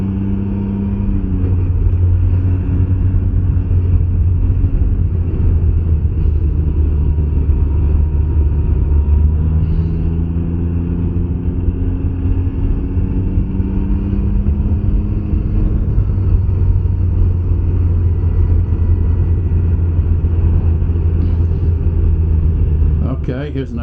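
Can-Am Ryker three-wheeler after a VSS repair, ridden on a rough unpaved road, a loud steady engine drone and road rumble with shifting pitch, continuous throughout and heard up close.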